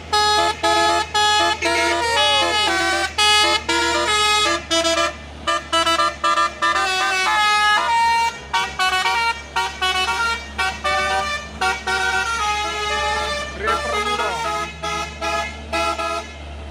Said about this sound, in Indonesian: Mantap, ada telolet.